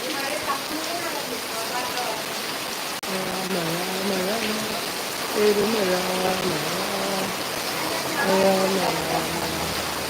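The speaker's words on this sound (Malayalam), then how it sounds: "നമ്മൾ വന്നേരം തൊട്ടുള്ള മഴയാണ്" Heavy rain pours in a constant dense hiss while people talk intermittently over it.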